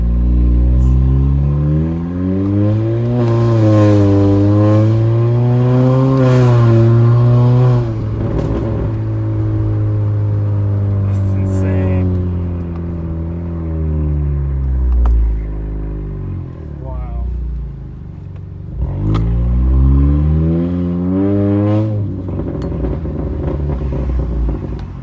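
A 2019–2020 Honda Accord Sport with the 1.5-litre turbo and a loud aftermarket exhaust pulls hard through paddle-shifted gears, its drone climbing in pitch, dropping at each upshift, then rising again, heard close from inside the cabin.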